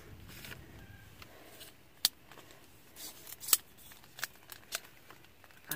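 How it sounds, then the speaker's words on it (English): Shock-corded pole of a Marmot Tungsten UL2 tent being folded up while taking the tent down in the rain: a series of sharp, separate clicks and knocks as the sections come apart, over a faint, steady background hiss. "I can fold that pole up."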